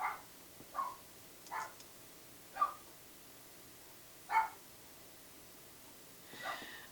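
Dogs bark outdoors in a series of single sharp barks spaced a second or so apart, moderately distant and fairly faint against a quiet background, with no talking.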